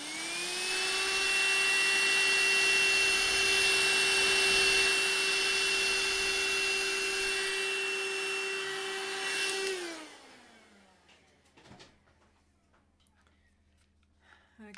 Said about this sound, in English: Just let me vacuum that bit there too